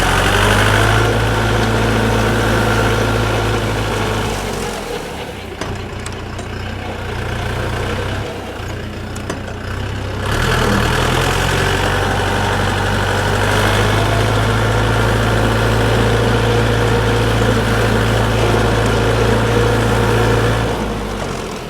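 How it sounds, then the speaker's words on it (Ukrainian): A Dongfeng 404 tractor engine runs steadily with a mower attached, a close, loud continuous drone that dips briefly in revs midway before climbing back up. "Дуже треба обертів давати тракторцю."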